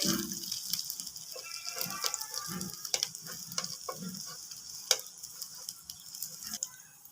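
Sandwich sides fry in a pan with a steady, close crackling sizzle, punctuated by sharper pops and a few scraping touches, continuous for the whole stretch with no talking.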